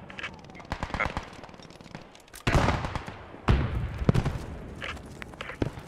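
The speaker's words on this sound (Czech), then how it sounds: "Střelba z vestu." Gunfire in the WWII shooter Post Scriptum during a 40-versus-40 clan match, with rapid machine-gun bursts and sharp single shots, some close and loud, others farther off, while voices talk over the comms.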